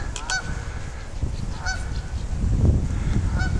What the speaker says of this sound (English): There's Mr. Goose out there making a lot of noise.